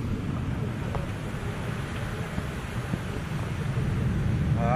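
Wind blows hard during a rainstorm in Yanbu, a steady, loud, rumbling rush buffeting close to the microphone without letup.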